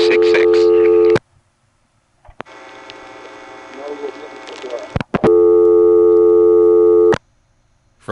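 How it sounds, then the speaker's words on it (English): A Stromberg-Carlson ESC telephone exchange at Quarryville, Pennsylvania, in 1976 plays busy-signal tones in long loud bursts with a noisy line tone between them. "From these noises, you can pretty much tell this is a Stromberg-Carlson ESC"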